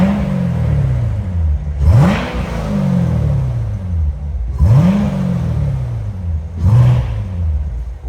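A yellow 2019 Corvette C7 Z06 3LZ coupe idles with a deep rumble, and its engine is revved sharply three times, each blip climbing quickly and settling back to a throaty idle, heard close by with no talking.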